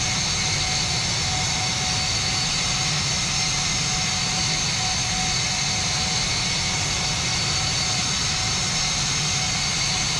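A jet aircraft taxis in the FlightGear flight simulator game, its engines making a loud, steady whine and roar that holds evenly throughout, with no talking over it.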